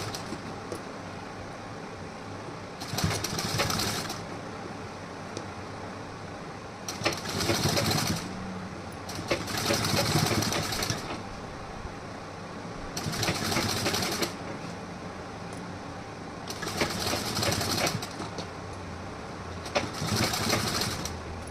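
A domestic sewing machine stitches folded blouse fabric while sewing piping, running in six separate bursts of a few seconds each with quiet pauses between, close and fairly loud.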